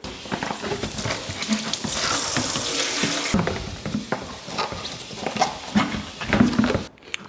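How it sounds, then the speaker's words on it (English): Water runs steadily from a tap, splashing and gurgling into a sink with some clatter while rinsing home-brewing equipment, then cuts off at the end. "Just let a bit of water run through that tap again."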